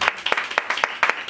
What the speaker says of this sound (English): That means you got to clap as loud as you can